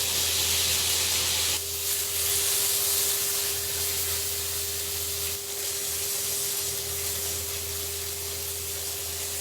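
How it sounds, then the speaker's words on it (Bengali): Chicken skin sizzling in a hot pan, a steady, dense hiss that continues without pause for the whole stretch, close and even, with a faint low hum underneath. "আমরা অ্যাকচুয়ালি চাচ্ছি হচ্ছে চামড়াতে একটা সিজল টাইপের হইতে আর কি।"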